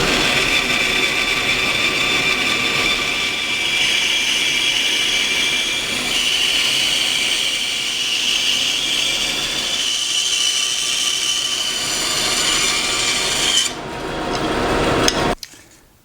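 A thickness sander or planer running on thin cocobolo wood pieces, a steady loud machine roar with a high whirring tone throughout, cutting off abruptly near the end.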